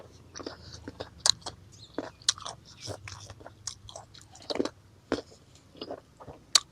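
Mango being bitten and chewed up close, with wet, squishy mouthfuls and occasional sharper bites in an irregular rhythm, fairly loud and near, with no talking.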